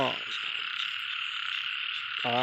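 A dense chorus of frogs croaking continuously after rain, a steady high-pitched trilling wall with a few louder croaks close by, rising again near the end.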